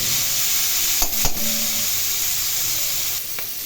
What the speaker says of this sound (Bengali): এখন এগুলো একটু ভালো করে ভেজে নেব